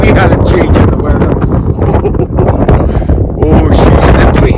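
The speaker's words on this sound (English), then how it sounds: "cold, windy" Loud, steady wind buffeting the microphone at a hiking campsite, a dense low roar that gusts and dips briefly before surging again.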